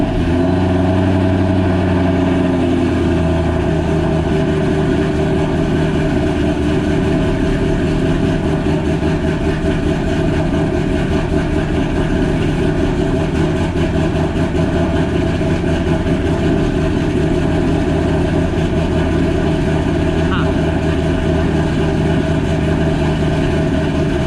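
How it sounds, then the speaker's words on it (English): A car engine runs at a steady idle for the whole stretch, a continuous low rumble with a brief higher settling at the start and no talk over it. "I'm gonna go ahead and start the car up"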